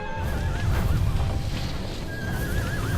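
A horse in the video game Shadow of the Colossus gives two wavering whinnies, one at the start and another near the end, over a steady windy, rumbling background.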